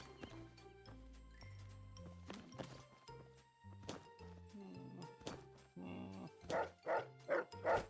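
A dog barks several times in the Fallout: Tale of Two Wastelands game, over tonal background music, ending in a run of four loud, evenly spaced barks.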